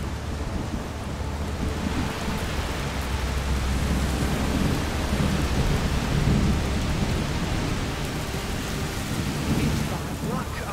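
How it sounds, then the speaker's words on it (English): Heavy video-game rainstorm with deep rolling thunder, a steady loud wash of rain rumbling continuously throughout with no voices. "The rain is getting worse. It's just a storm."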